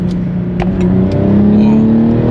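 Car engine revving up after a downshift during a roll on an open road, a steady loud drone climbing slightly in pitch with the engine noise filling the whole clip.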